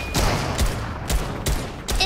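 Sharp, loud gunshots from a six-shooter revolver in a video game ring out about five times at uneven intervals, each crack followed by a short decaying tail over a busy game background.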